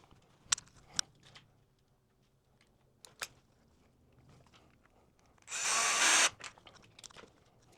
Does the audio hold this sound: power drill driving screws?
yes